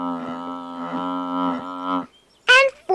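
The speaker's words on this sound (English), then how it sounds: "And 4 moos." A cow lets out a long, steady, droning moo held for about two seconds, then a short higher-pitched call follows after a brief gap.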